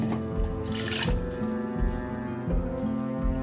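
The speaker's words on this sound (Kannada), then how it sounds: "ಅಷ್ಟು ನೀರು ಹಾಕಿ ಸಾಕು." Water pours into a pot of chicken sambar in a steady splashing stream, close and continuous, with brief louder gushes partway through.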